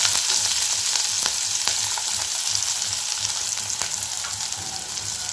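Onions and green chillies fry in hot oil with mustard seeds, a steady close sizzle with scattered small pops and crackles throughout, fading slightly toward the end, no voices.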